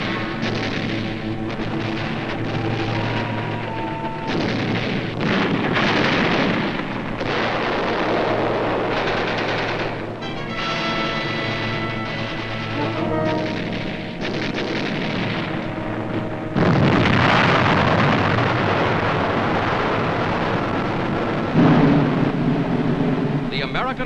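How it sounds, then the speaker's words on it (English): Battle sounds from a 1944 newsreel of Marines attacking enemy posts, with rifle fire, hand grenades and explosive charges; repeated gunfire bursts and booms, loud and rough, with a narrator speaking over them. "Marines attack enemy posts directly beneath them with bullets, hand grenades, and charges of explosives."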